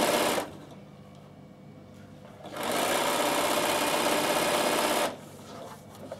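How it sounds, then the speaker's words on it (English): Sewing machine stitching a seam down one side of a fat-quarter fabric produce bag, a close, steady motor whir that runs briefly, stops, then runs again for a longer stretch before cutting off. "So sew all the way down one side."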